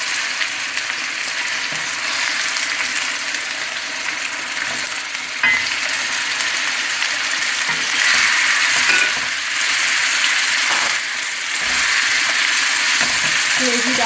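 Browned onions frying in a pan with ginger-garlic paste added, a continuous close sizzle with occasional stirring scrapes and knocks over fourteen seconds.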